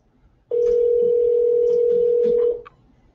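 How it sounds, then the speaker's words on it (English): A telephone call tone sounding as one steady, loud, unbroken two-second note, with faint background noise before and after it. "Oh, look, it's ringing."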